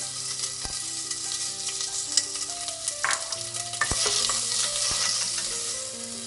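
Medium-size chopped onions sizzle in oil in a pan over a low flame, with a steady frying hiss broken by scattered spatula scrapes and clinks as they are stirred.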